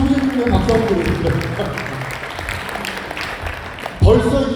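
An audience at a Rotary district seminar claps in a dense, sustained burst of applause, fairly loud and roomy, while an announcer's voice carries over it and a fresh surge comes near the end.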